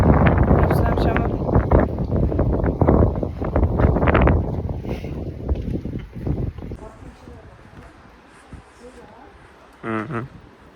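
Gusty wind buffets an outdoor microphone for the first several seconds, broadband rumble rising and falling, then easing to a quieter background with a brief burst near the end.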